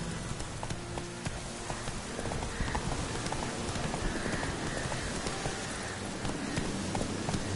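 Horse galloping in The Witcher 3, a rapid continuous drumming of hooves over a dense rain-like rush of ambient noise, steady and fairly near throughout, with no speech.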